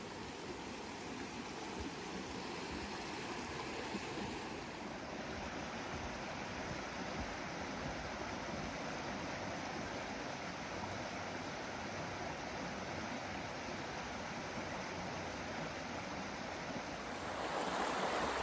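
A creek swollen after heavy rain on a wildflower trail, giving a steady, broad rushing wash of water that holds evenly throughout and swells slightly louder near the end, with no voices.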